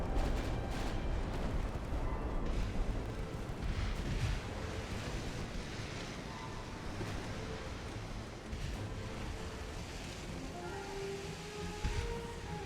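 Warship guns firing in the naval game Ultimate Admiral: Dreadnoughts, with 1890-era hulls: dull, distant booms scattered over a steady roar of sea and wind ambience, with no talking.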